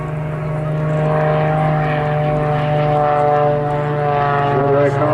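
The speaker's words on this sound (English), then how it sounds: "These aircraft very strong, built for competitive aerobatics." A Mudry CAP 232 aerobatic aircraft flying at the Southport airshow, its loud, steady propeller engine drone with a strong low hum continuing throughout, with a voice talking over it.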